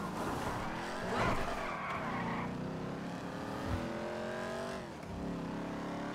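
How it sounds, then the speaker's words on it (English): Car engine revving hard in GTA V, likened to a Dodge Hellcat or in-game Gauntlet muscle car, with rising and falling engine tones, tire squeal and skidding throughout, loud and close with no talk. "This car sound good, like a Hellcat."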